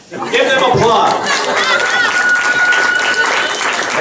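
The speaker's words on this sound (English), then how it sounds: "Give them applause." Loud, sustained applause from guests at a 60th wedding anniversary celebration for an elderly couple, with dense clapping, some chatter and a laugh mixed in.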